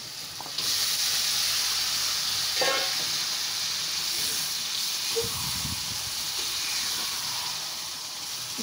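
Beef frying in a spiced masala at a Bangladeshi breakfast eatery, giving a steady, close sizzle and hiss with a few soft stirring knocks and scrapes, and no talking.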